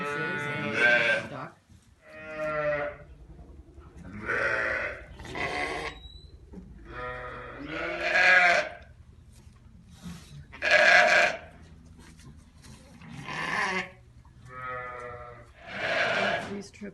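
A Jacob lamb stuck between two fences bleats loudly and repeatedly, about eight wavering cries spaced a second or two apart, near and clear over faint farmyard background.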